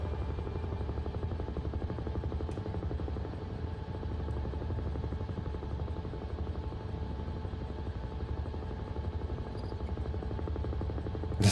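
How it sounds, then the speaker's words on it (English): Huey helicopter in a flight simulator game, its steady rotor thump and turbine whine droning continuously at an even level throughout with no pauses. "I do like the sound of a Huey."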